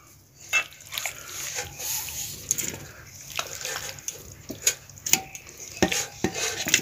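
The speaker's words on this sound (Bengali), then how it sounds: "এবার এঁচোড়টা এর মধ্যে দিয়ে দেব।" Raw jackfruit pieces tumbled into an oiled clay handi, with scattered clattering, knocks and stirring scrapes against the pot, close and moderately loud, no talk.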